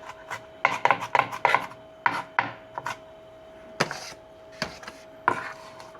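A knife chops guacamole ingredients finely on a board, with quick close bursts of rhythmic chops followed by scattered single strikes and scraping, no talking.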